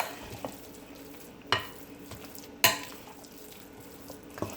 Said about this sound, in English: Just mix this in.